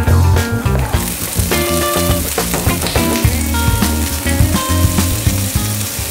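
Oil and side ingredients for a chicken and mushroom pot sizzle and crackle steadily in a hot pot over medium heat, with clattering utensil knocks and stirring scrapes throughout, close and fairly loud.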